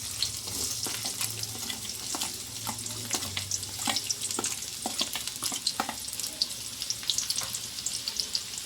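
Finely chopped onion frying in hot oil in a pan for an egg curry, a steady close sizzle with crackling pops and occasional stirring scrapes, no talking.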